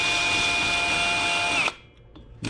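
Loud, steady abrasive grinding of a sharpening stone working the cylinder edge of a Stihl 025 chainsaw, running continuously for over a second and a half, then cutting off to near silence before a faint restart.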